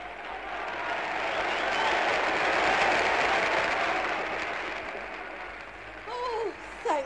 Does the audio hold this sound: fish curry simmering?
no